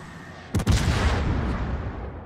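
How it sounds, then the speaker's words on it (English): A naval gun salvo in the warship battle game World of Warships fired at an enemy Zhao cruiser, a loud near boom followed by a rolling, fading rumble of the shots. "I'm going to put some more fire down on this Zhao."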